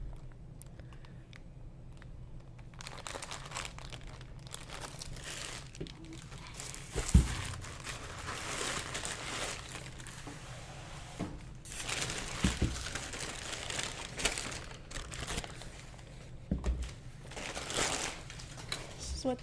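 Tissue wrapping paper around Travis Scott x Jordan Jumpman Jack TR sneakers being handled, bursts of crinkling and rustling close by, with a person talking throughout.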